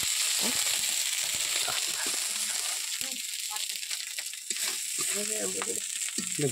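Ginger spits and crackles in hot oil in a pan, a steady close sizzle with sharp pops, while a person talks over it in bursts.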